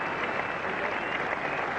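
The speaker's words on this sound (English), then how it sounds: "the applause very much for Edmonds" Cricket crowd at the 1986 England versus India first Test applauding a fine fielding save at deep mid-wicket, a steady, dense wash of clapping throughout with no clear speech.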